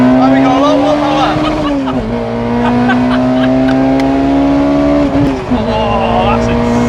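A supercharged Honda S2000 with an F20C engine on a touge drive pulls hard, its engine note rising steadily in pitch with brief dips at two gear changes, loud and close, with a supercharger whine on top.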